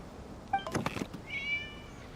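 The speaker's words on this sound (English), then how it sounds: "It was just a cat." In the game Genshin Impact, a short cat meow rises out of the game soundscape, then a second, higher drawn-out mew follows, both fairly close and clear.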